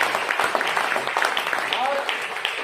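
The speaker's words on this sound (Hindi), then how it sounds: "मैं चाहूंगा मिस्टर संजीव सर के लिए एक जोरदार ताली उनकी।" Loud, dense applause from an audience at a company's sixth anniversary event, steady and sustained throughout, with crowd voices mixed in.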